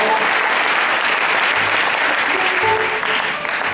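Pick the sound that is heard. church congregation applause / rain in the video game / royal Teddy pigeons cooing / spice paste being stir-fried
church congregation applause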